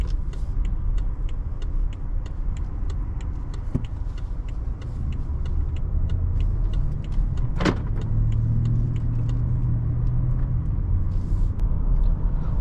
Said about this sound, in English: even driving down this shitty dirt road, the car is so smooth you wouldn't even really know it